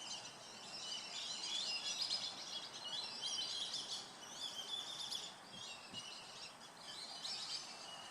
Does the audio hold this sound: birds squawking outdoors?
yes